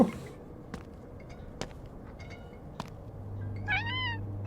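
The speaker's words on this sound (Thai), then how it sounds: "แมว" A cat in the video game Midnight Postman meows a few times, with sharp clicks between the calls and a low steady hum rising near the end.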